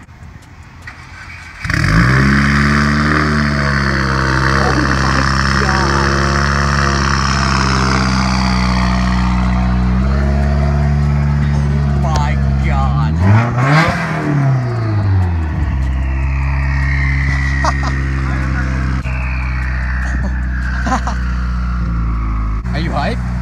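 A straight-piped 2018 Subaru WRX fires up and revs hard, its raw, loud exhaust rising and falling through several throttle blips close by, with voices faintly underneath.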